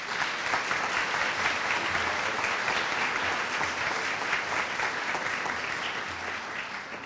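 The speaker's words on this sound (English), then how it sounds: "Let's give her a round of applause." Steady, dense applause from a large audience at a nursing pinning ceremony, continuous and even for several seconds before easing slightly toward the end.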